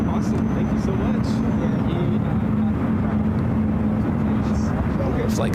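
An aircraft taxis at San Francisco International Airport, producing a loud, steady engine rumble with a low droning hum that continues throughout, with no pauses.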